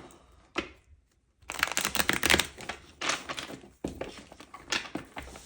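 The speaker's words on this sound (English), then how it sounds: "So I'm just going to give them a shuffle." Two decks of cards are shuffled close by in several brisk bursts of rapid riffling and slapping, with short pauses between them and no voices.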